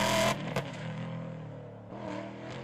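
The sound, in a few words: Aston Martin Vantage GTE race car lapping a track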